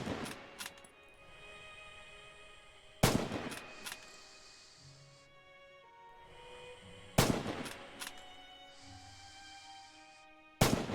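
Rifle shots fired at downrange targets in the video game Red Orchestra 2: Heroes of Stalingrad, loud sharp cracks several seconds apart, each followed by a ringing echo that fades into quiet ambience.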